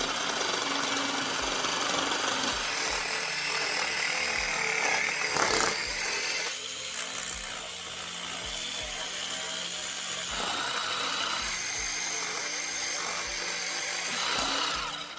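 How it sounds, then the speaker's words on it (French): A jigsaw buzzes steadily while cutting through click vinyl flooring, a harsh continuous rasp with small shifts in pitch and a brief louder knock midway. "cela fonctionne aussi avec la scie sauteuse"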